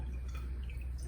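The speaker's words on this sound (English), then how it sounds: "It won't mess up the sand as I'm pouring the water in." Water trickles steadily through a cupped hand into a planted jar aquarium over sand, a soft continuous splashing and dripping close by with no voices.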